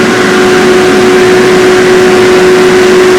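A Purisystems negative air scrubber with five-stage filtration runs steadily at close range, giving a loud, constant motor whine and rushing exhaust airflow with a fixed tonal hum throughout.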